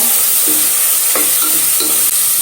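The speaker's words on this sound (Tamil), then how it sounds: "எண்ணெயில் இதெல்லாம் நல்லா வணங்க வேணுங்க." Ground spice paste fries in oil for Erode-style mushroom biryani, giving a loud, constant close-up sizzle with occasional soft stirring knocks.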